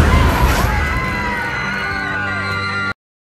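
Several people scream together in a tense film scene as a figure awakens, a loud, sustained burst of shrieking with crashing noise beneath it, then cutting off abruptly.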